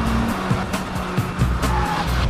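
A Citroën Saxo VTS hot hatch is driven hard through a corner, its engine revving loudly and close. Brief tire squeals and rising and falling engine notes come through a rough road roar, with no talking.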